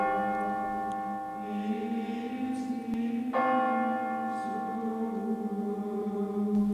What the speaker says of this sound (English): The bells rang out.